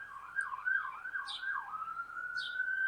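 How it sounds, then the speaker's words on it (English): An emergency siren wailing through a city outside a Minnesota garden, a steady mid-distance rising and falling tone running throughout, with a few faint chirps above it. "Sorry for, there's a siren."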